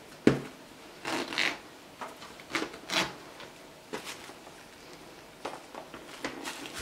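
A ring pull zipper on a 1970s-style neoprene pleather camera bag for a Polaroid SX-70 Pronto 1500 gives a series of short, close rasping pulls and soft handling clicks, with quiet gaps between strokes.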